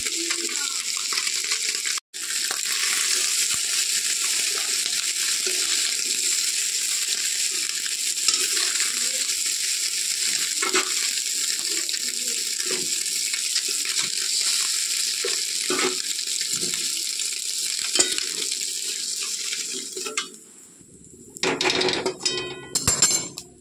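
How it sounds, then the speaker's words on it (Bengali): Small puti fish frying in hot oil in a kadai as part of a spicy chachchari, a steady bright sizzle that runs almost throughout, broken by one brief gap, with faint clinks of stirring and a clattering shift near the end. "পুঁটি মাছগুলো আমার ভালো করে ভাজা হয়ে গেছে"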